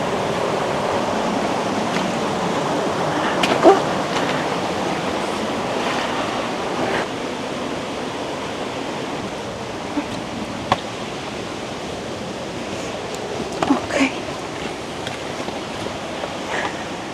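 The waterfalls at Saltos de Jima in the Dominican Republic give a steady, broad rush of falling water, with a few brief knocks and rustles over the constant roar and no talk.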